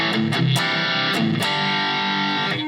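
An Enya Nova Go Sonic guitar plays a heavily distorted, saturated tone in loud sustained chords, with a few sharp picked attacks and a thick, buzzing, harmonic-rich sustain and no talking.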